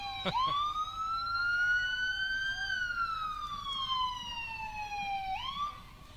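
A loud ambulance siren wails nearby at a Labour Day parade in Sarnia, one long rising and falling tone, heard clearly with no talking.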